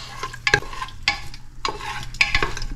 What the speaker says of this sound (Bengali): ঘি দেওয়া হলো প্রথমে প্রেশার কুকারে